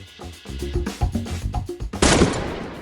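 A gunshot cracks out at a Friday night street race, heard over a dense, rumbling mix of engines and crowd noise, ending in a loud, sustained burst.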